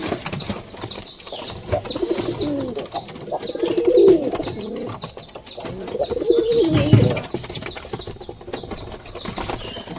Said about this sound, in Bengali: তো দেখতে হচ্ছে সব কবুতর মোটামুটি খাচ্ছে